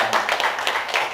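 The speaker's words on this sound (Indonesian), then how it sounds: "Tepuk tangan dulu dong untuk Bang Mandor." A small audience claps briefly at a public discussion, a short burst of uneven hand claps heard up close.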